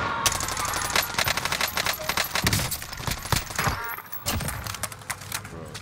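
Gunfire in the video game Warzone on Rebirth Island, with rapid dense bursts of shots and clinking, loud and continuous for several seconds without talk.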